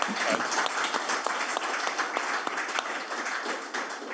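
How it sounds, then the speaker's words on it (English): A room full of people claps after a leadership talk, a bright, dense and steady burst of applause at close range, with no speech over it. "could we please give Mark Oliver a big round of applause?"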